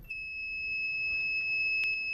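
A homemade solar-powered soil moisture alarm for plant watering emits a steady, piercing electronic tone that holds unbroken for about two seconds, close and loud over faint background noise.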